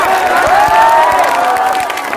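Audience applause and crowd noise at a 26 January school celebration at an inter college, a dense continuous wash of clapping and cheering, loud and near, with a sustained tonal hum running through it.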